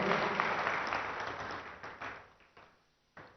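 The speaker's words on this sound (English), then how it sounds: "give a big round of applause for what all happened in the 7 years in the state" An audience claps at the inauguration of a state ICT policy in a hall, a moderate round of applause that fades out over a few seconds before a final short burst.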